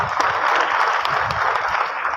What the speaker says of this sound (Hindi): एक बार जोर से ताली बजाकर बता दीजिए कि कैसे ताली बजाते हैं